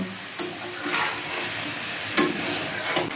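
Onions for a dhaba-style chicken masala are stir-fried in a pan, with a continuous sizzle broken by a few sharp scrapes and knocks of the spatula against the pan.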